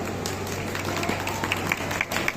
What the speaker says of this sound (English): You really deserve a big round of applause